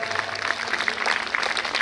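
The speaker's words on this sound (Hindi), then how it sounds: "सभी अतिथियों का जोरदार तालियों के साथ स्वागत हो जाए" Enthusiastic applause welcomes guests at a school annual function, a continuous, fairly distant crowd clapping with a faint hum beneath.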